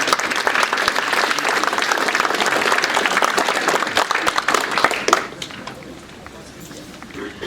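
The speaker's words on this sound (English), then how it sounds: "So round of applause please for our panel." An audience at a Renmark Irrigation Trust event gives a panel a dense, loud round of applause that runs for about five seconds and then trails off, after which a voice starts speaking.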